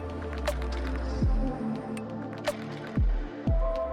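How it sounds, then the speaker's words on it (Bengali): A spoon scrapes and clanks in a pan while spiced pointed gourd and prawn curry with turmeric and salt is stirred, giving a few sharp knocks and soft squishing sounds over a low sizzle. "এবার ভালোভাবে নাড়াচাড়া করে নেব।"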